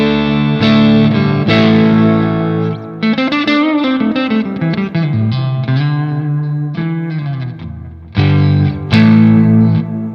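Distorted electric guitar through a Victory Sheriff preamp pedal into an amplifier, playing chords and short riffs with a gritty, saturated tone, loud and up front, with brief pauses between phrases.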